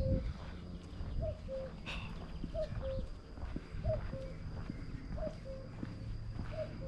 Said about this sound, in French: Ah, tiens, il y a un coucou, écoutez.